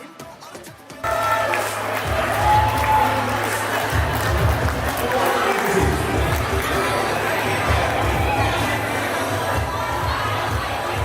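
A crowd at a Holi celebration cheers, claps and shouts after a short pause, and the loud, dense hubbub carries on steadily with voices mixed through it.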